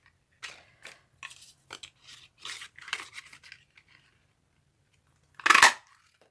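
Scissors cut a large oval from Granny Apple Green paper in a run of short, crisp, close snips, then fall quiet before one louder final snip.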